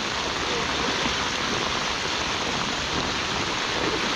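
Rain falls while a swollen stream rushes past, producing a steady, even hiss of water throughout with no pauses.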